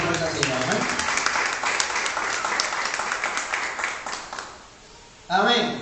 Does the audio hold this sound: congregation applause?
yes